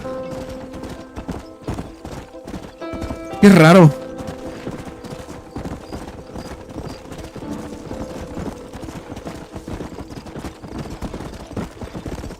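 Horse hooves in Red Dead Redemption on Nintendo Switch, a quick steady clip-clop running the whole time with a short neigh partway in, and someone talking briefly.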